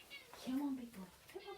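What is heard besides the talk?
cat meowing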